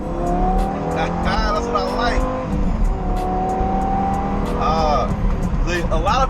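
A Lamborghini Gallardo in sport mode pulls away hard, its engine note climbing steadily and loud throughout, with someone talking over it.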